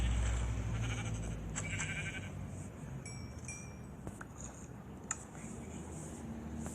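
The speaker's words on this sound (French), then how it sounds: "Je suis obligé de tuer le mouton." A sheep in the Minecraft video game gives a short bleat, heard among faint game ambience with a few small clicks and rustles, no talking over it.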